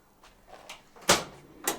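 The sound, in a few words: rear barn doors of a Renault Trafic van opening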